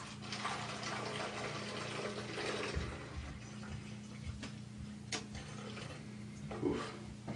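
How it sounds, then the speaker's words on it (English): Rubbing alcohol is poured into a Shout bottle, a faint, steady trickle of liquid with a few soft knocks and clicks against the bottle, close and quiet, with no voices. "what I'm going to do is pour the rubbing alcohol into this bottle of Shout"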